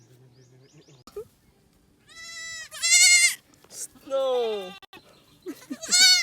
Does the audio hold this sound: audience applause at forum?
no